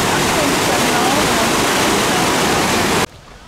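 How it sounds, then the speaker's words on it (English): A fast-flowing river in Munich's English Garden, its water rushing loud and constant close by before cutting off abruptly near the end. "There's a section of the English Garden with a fast-flowing river."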